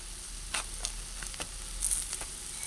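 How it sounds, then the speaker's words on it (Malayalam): Fish frying in a pan for an oil-free recipe gives a faint, steady sizzle with a few brief crackling pops, heard up close without any voices. "അപ്പം ഏകദേശം നമ്മുടെ മീൻ വറുത്തത് ഒരു സൈഡ് ശരിയായിരിക്കുകയാണ്"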